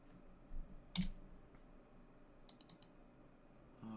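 Computer mouse clicks on software settings: a couple of crisp, faint clicks in a quiet room, followed by a few lighter ticks.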